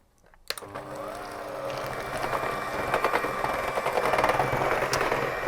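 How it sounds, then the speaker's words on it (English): An electric mixer beats cookie dough with an egg in it, starting abruptly after a sharp click and running as a steady, whirring hum that grows slightly louder and busier as it goes. "And now we're going to mix it all back up again."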